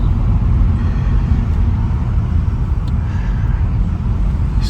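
Audi A3 1.8 TFSI fitted with a swapped DQ250 DSG gearbox, driving along with a steady, loud, low engine and road rumble from inside the car, with no talking.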